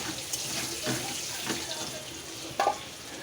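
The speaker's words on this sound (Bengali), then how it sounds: "অল্প একটু নুন আর হলুদ দিয়ে আলুটা লাল লাল করে ভাজবো" Potatoes frying in hot oil with a little salt and turmeric until reddish-brown, a soft steady sizzle with a few light clinks and a brief louder scrape near the end, under faint background voices.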